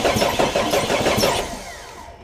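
A Jeep engine cranks over with a rapid, loud rhythmic chug from the starter, then winds down and stops without catching, close to the vehicle in a workshop setting.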